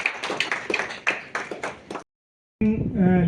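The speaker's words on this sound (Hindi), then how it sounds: "जोरदार तालियां" Audience at an orientation programme on water body conservation clapping in a burst of sharp, uneven claps for about two seconds, then a pause before a voice begins.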